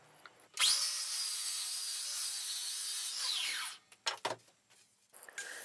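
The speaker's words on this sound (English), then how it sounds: "then cut them to length on my miter saw" A miter saw cuts wooden fence pieces to length for a table saw crosscut sled, the loud whining cut lasting about three seconds before the blade spins down, followed by a few light knocks as the wood is handled.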